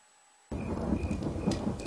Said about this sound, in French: La pluie tombe, s'abat sur les fenêtres, les éclairs frappent et transpercent le ciel.